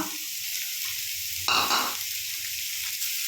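Mushroom rice ingredients frying in a pan, a steady close sizzle that swells briefly into a louder hiss as the food is stirred or moved, then settles back to a constant crackle.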